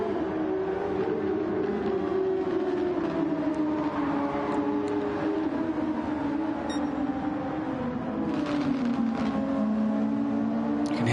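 A turbocharged race car sweeps past on a circuit, engine tone sliding down as the wastegate chatters off throttle, a sustained loud drone with a few sharp chirps near the end.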